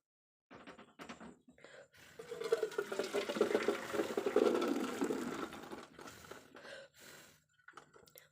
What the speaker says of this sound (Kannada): ಇವಾಗ ಇದನ್ನು ನೀರು ಸಪ್ರೇಟ್ ಮಾಡ್ಕೋಬೇಕು.